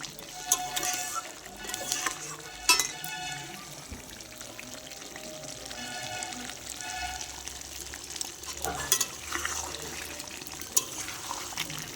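Mutton pieces being sautéed in a pan, with steady sizzling and occasional stirring scrapes throughout, moderately loud and with no talk over it.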